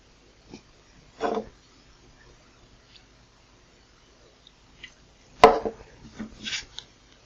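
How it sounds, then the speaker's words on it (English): Scraping thin sticker glue residue off a retro video game box, a few short, rough scrapes scattered across quiet pauses, with one louder drawn-out scrape near the end. "Try and scrape a lot of this ultra thin rubbish off here."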